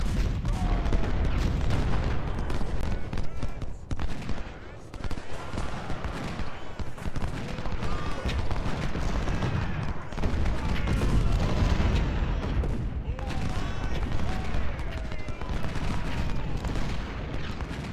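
Civil War cannon batteries in Ultimate General Civil War boom in a constant, dense barrage of overlapping artillery blasts and rattling gunfire. The rumbling volleys run throughout with little pause, and a faint voice is sometimes heard underneath.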